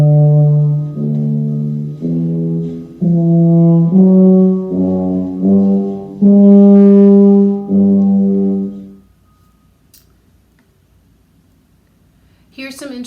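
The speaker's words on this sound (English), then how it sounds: "Here's the tuba sound." A solo tuba plays a slow series of low, separate notes in a steady melodic line, loud and close, then stops, leaving near silence before a brief faint sound at the end.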